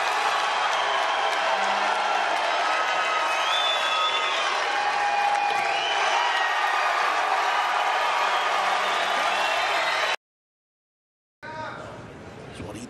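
A crowd at a Mosconi Cup pool match cheers and applauds loudly and steadily, with a commentator speaking over it; the sound cuts out briefly near the end before quieter crowd noise returns.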